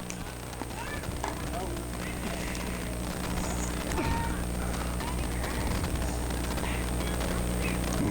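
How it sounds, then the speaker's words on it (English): An airplane passes overhead during a high school baseball game, a steady broad rumble that holds for the whole stretch beneath a commentator's voice and faint ballpark noise. "Another plane."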